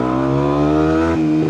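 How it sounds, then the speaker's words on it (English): A Kawasaki Ninja 125 motorcycle engine burbles at idle, a deep steady exhaust rumble with a slight blip in revs near the end, close and loud. "Oh, you hear those burbles? They sound amazing."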